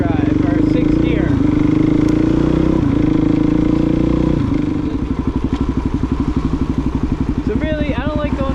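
A Suzuki DRZ400 dual-sport motorcycle drones loudly at highway speed with a steady engine whine and wind buffeting, then settles into a pulsing, thumping engine rhythm as the revs drop.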